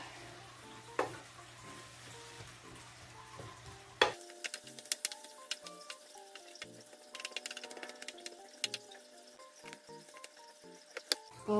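Ground venison sizzles in a pan alongside tomato, with a quiet hiss that gives way to busy clicking and scraping as it is stirred and mixed. There is no talk.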